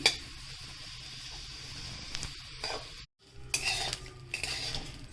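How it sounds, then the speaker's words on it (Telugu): Sesame seeds roast in a pan while a spatula stirs them, making soft scraping and clinking with faint crackle. A brief silent gap comes midway, then the stirring resumes a little louder. It sounds close and quiet, with no voices. "నువ్వులు వేయిస్తున్నంతసేపు ఇలా సరాటంతో కలుపుతూనే ఉండాలి లేదంటే కింది నువ్వులు మాడిపోతాయి"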